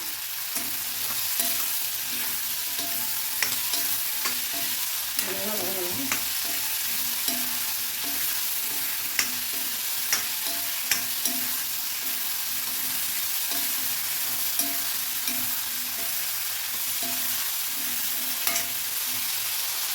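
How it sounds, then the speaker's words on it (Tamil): Onions sautéing with coarse rock salt in a pan while a fish curry is being cooked, a steady sizzle with repeated stirring scrapes throughout, close and alone with no talk. "இது நல்லா வதங்கிட்டுங்க ஆனியன் நல்லா வதங்கணும்"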